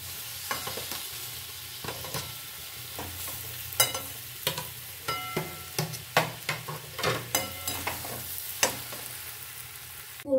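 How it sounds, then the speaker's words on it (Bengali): Potatoes being sautéed with spices for a chop filling, stirred repeatedly in a pan: a run of scraping stirs over a steady low sizzle, fairly close, with no talking. "এবারে আমি এই যে আলু ম্যাক্স করে রেখেছি, এই আলুটা ভালো করে এর সাথে কষিয়ে নেব"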